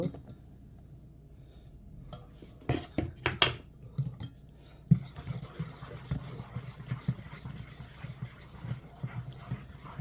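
Chocolate chip cupcake batter with flour being mixed in a bowl: a spoon clinks and scrapes against the bowl in uneven bursts, loudest in the middle stretch, with light clatter and no talking.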